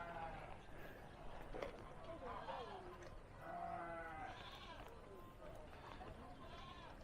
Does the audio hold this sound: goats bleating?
yes